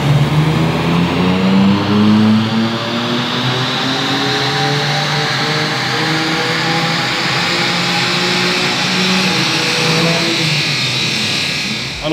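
A BMW M4 on a dynamometer during tuning runs loud and close, its engine note climbing steadily through the gears in a long sustained pull with rising harmonic tones.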